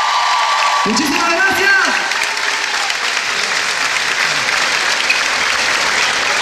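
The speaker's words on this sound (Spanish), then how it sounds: "Un fuerte aplauso para todos ustedes" Theatre audience applause, a dense sustained wash of clapping filling the whole stretch, with a voice speaking briefly over it near the start.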